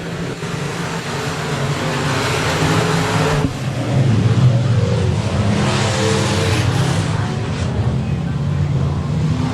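Late model race cars roar at Boothill Speedway, a steady loud blend of engines filling the whole stretch with a brief dip partway through and crowd noise underneath.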